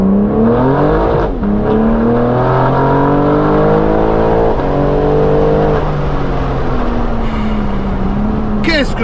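A BMW M4 with a full straight-pipe exhaust, loud and close, revs and accelerates through several rising gear pulls with sharp drops between shifts and crackles near the end, while a voice talks under the engine noise.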